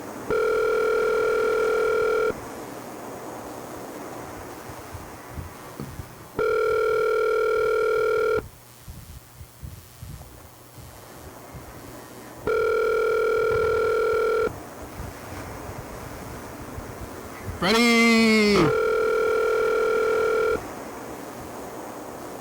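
A telephone call rings out with several long, evenly spaced dial-tone rings against a steady background hiss, with a brief warbling tone near the end and a voice calling out once.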